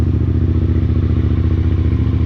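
Yamaha TDM 900 motorcycle engine idling steadily just after a cold start outdoors, a loud, close, even low rumble with rapid regular firing pulses and slight mechanical clatter throughout.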